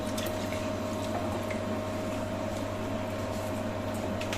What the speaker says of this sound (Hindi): 2 गिलास भर के पानी डाल रही हूँ